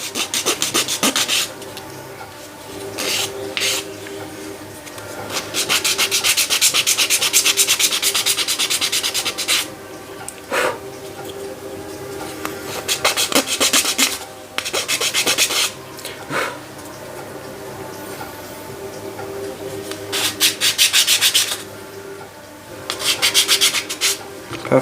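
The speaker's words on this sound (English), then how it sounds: "Remember to always sand down your pieces." Wooden parts for an HMS Endeavour ship model being sanded by hand in repeated bursts of close, dry rubbing strokes, with short pauses between passes.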